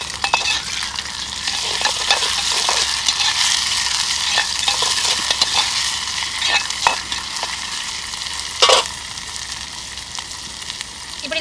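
Ginger garlic paste sizzles steadily in a hot pan in a village kitchen, with a spatula scraping and stirring in irregular strokes; loud and close, no talking.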